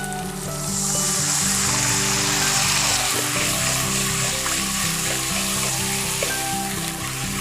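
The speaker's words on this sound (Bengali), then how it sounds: "এখন একটু জল দিয়ে দিচ্ছি।" Chopped tomato and spices frying in a pan, with water poured in, give a dense, loud, continuous sizzle and bubbling hiss that holds steady throughout, with no talking.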